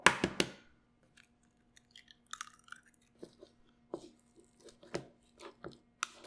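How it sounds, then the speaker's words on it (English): Stuffed pepper filling mixed by hand with a cracked egg gives soft, wet squishing and squelching pulses at an irregular rhythm, close and fairly quiet, with a few louder smacks at the start. "you're gonna have to get in there with your hands and mix it all together"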